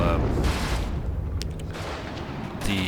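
Gunfire in the real-time strategy game WARNO during an urban infantry fight: a dense, continuous battle roar with repeated bursts and booms overlapping, loud throughout.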